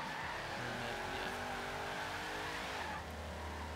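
A Hoonigan car in Forza Horizon 3 slides along with a continuous high tire squeal over a steady engine drone, holding loud and even before easing slightly near the end.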